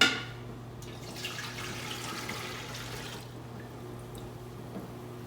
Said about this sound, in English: So let me get this poured in here.